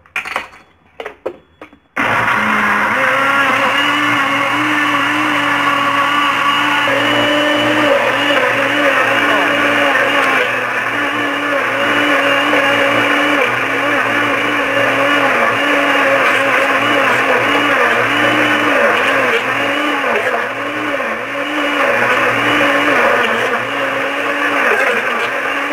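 An electric blender whirs loudly while blending frozen açaí, a strong steady motor drone with wavering pitch as the load shifts, starting after a couple of brief stop-start pulses and running continuously near the microphone.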